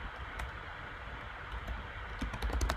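Computer keyboard typing, a run of quiet close clicks and key taps that gather into a faster burst near the end over a low background hum, with no talking.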